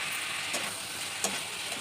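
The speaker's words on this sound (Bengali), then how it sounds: "তো এবার এগুলো একসঙ্গে কষাতে থাকবো। পেস্ট করে টমেটো আমি দিয়ে দিলাম।" Tomato paste with turmeric stir-fried in a hot pan, a steady close sizzle and hiss throughout with a couple of faint scrapes of the spoon, no voices.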